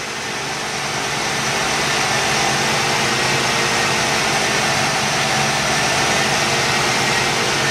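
A 1986 Ford Mustang GT engine idles steadily close by, a continuous even hum with a faint mechanical rattle and no voices.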